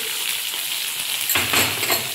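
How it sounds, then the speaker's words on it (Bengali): Spices, including turmeric and chili powder, fry in a pan for doi potol with a steady bright sizzle, and a brief stirring scrape partway through briefly thickens the crackle. "সামান্য একটু লঙ্কার গুঁড়ো দিয়ে এটাকেও ভালো ভালো করে আমি ভাজা ভাজা করে নেব"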